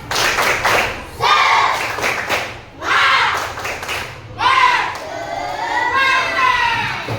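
Schoolchildren in a classroom perform a rhythmic spirit clap, loud bursts of claps and shouted chanting in repeated patterned phrases, with brief pauses between sections and a teacher's voice mixed in.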